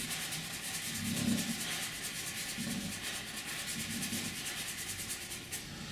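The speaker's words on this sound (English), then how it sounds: "I'll just scrub that line out so it doesn't." Scrubbing a brush over a drawn line on a sea painting, a soft continuous rubbing rasp with slight rhythmic pulses, close and quiet, without talk.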